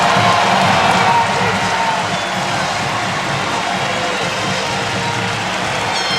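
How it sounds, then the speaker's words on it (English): Large Indiana home crowd in a college football stadium roars and cheers during a game against SIU, a dense, sustained wash of noise that swells loudest in the first second and then settles into a steady ongoing rumble. "This Indiana crowd getting into it."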